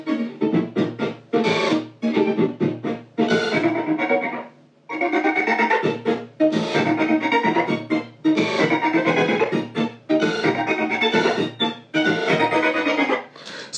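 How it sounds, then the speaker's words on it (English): A synthesizer sequencer track plays a pitched, clav-like rhythmic pattern in short repeated bursts, loud and steady with no voices over it. "now this is the synthesizer track and it sounds like this"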